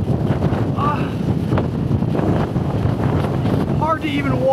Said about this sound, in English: The wind just pushing. It looks like white caps out here.